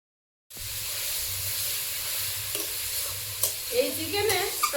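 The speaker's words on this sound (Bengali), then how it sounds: "মশলাটা কষিয়ে নেব" Spices sizzle and get stirred in a hot pan while cooking a chicken dish, a steady frying hiss with scraping stir strokes growing busier toward the end.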